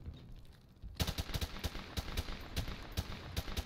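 Rapid automatic gunfire from a first-person shooter, Call of Duty: Modern Warfare Remastered in search and destroy mode, bursts in after a second of quiet and rattles on as loud, close, evenly spaced shots with no talk over it.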